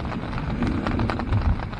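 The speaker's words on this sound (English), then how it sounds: "We're still hiding, waiting for the rain to stop." Rain falls during a sun shower at Mogo campground, a dense close patter on surfaces with a few heavier thuds, steady throughout and without voices.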